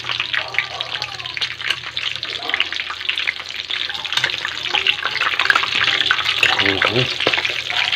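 Quail pieces frying in oil for adobo and being flipped in the pan, with a continuous dense crackling sizzle and scraping clatter of turning pieces throughout, growing slightly louder toward the end.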